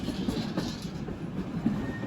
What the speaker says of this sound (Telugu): మెల్లగా మనమైతే ఎంటర్ అయిపోతున్నాం వరంగల్ స్టేషన్ లోపలికి.